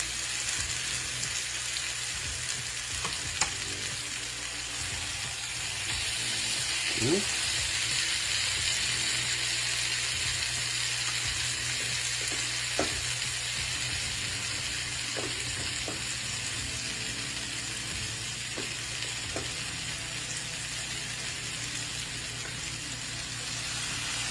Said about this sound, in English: We get a nice little browning and char on the bottom of that crab cake. It'll almost be fried on the bottom.